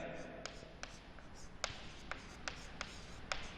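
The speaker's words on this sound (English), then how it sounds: "Here I will write" Chalk or marker strokes on a physics classroom board come as short, faint scratchy taps in an irregular rhythm, with soft room noise between strokes.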